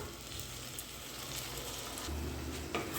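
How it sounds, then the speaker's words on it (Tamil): Tomatoes sautéing with a ground onion-garlic paste for a cowpea and drumstick kuzhambu, a steady close sizzle and frying crackle with a low rumble and occasional stirring clinks. "இந்த தக்காளி நல்லா மசிகிற அளவுக்கு வதக்கி எடுத்துக்கலாம் தக்காளி வதங்கினதும் நம்ம அரைச்சி எடுத்து வச்சதை சேர்த்துடலாம்"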